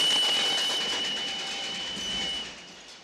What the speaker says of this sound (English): And then when the train comes, this deafening shriek.